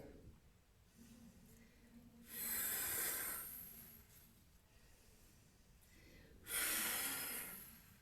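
Two loud, breathy exhalations, several seconds apart, rush out through the mouth, with quiet pauses between them.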